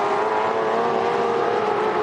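Touring Car Masters race cars passing at Queensland Raceway, a loud, continuous high-revving engine roar that holds steady at close range throughout.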